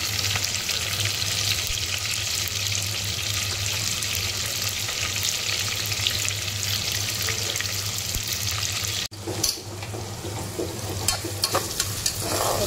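Thinly sliced onions fry over a medium gas flame in a pan, a steady close crackling sizzle with faint scraping, briefly cut off near the end before resuming more unevenly.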